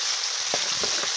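Garlic paste frying in a hot pan gives a steady, close sizzle throughout, with a few soft stirring scrapes partway through and no talking.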